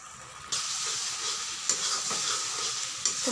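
Spices being stir-fried in a pan for Bengali chicken kosha, a steady loud sizzle with broadband hiss, punctuated by a few sharp scraping stirs, no voices.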